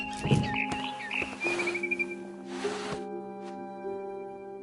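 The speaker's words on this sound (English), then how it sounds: "Then I heard chirping outside my window. It was a barn swallow going back to her nest." A barn swallow chirps in the video game What Remains of Edith Finch, several short bright tweets early on and then sparser calls over soft sustained tonal game music.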